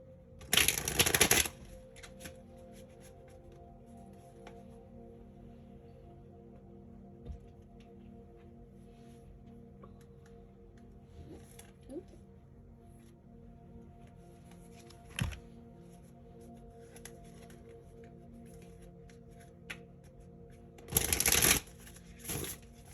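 Two loud bursts of card shuffling, one at the start and one near the end, with faint taps and handling noises in between.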